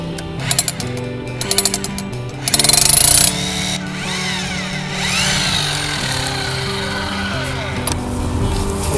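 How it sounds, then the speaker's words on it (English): An SDS-Max hammer drill fitted with a frozen soil auger kit starts with short rapid bursts, then settles into a loud, sustained mechanical hammering and whirring drone. "That way, when it rotates,"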